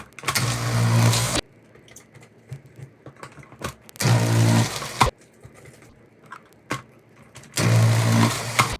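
Cabbage being shredded for sauerkraut in three loud, sustained rasping bursts of a few seconds each, separated by quieter gaps of handling and light clatter.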